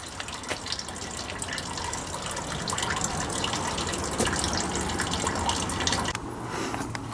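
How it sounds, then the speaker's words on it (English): Clear water gushing and splashing steadily from the opened upper radiator hose of a 2002 Dodge Grand Caravan with a 3.3/3.8 engine after an engine and radiator flush, a continuous close pour with dripping. "I just flushed out the engine and the radiator, so it's got nothing but clear water coming out."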